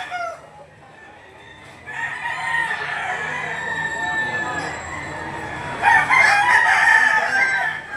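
A spangle gamefowl rooster crows loudly and nearby at a livestock auction market in Lipa, Batangas, with two drawn-out crows over a background of murmuring voices and market noise.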